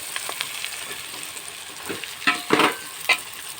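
Bitter gourd curry fries in a pan, giving a steady close sizzle, while a spoon stirs it with a few sharper scraping strokes toward the end.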